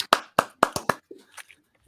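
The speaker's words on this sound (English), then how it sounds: "I've never been introduced on a podcast and then people clap for me." A handful of people clap for a podcast guest, five sharp claps in a short uneven burst followed by a few faint sounds before it fades to quiet.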